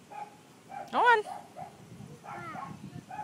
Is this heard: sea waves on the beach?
no